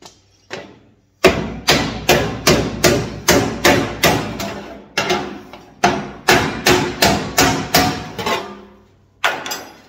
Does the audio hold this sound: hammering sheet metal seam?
yes